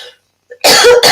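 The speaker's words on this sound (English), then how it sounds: "I'm going to cough." A single harsh cough bursts out after a brief quiet breath, close and loud, with a short rasp at the end.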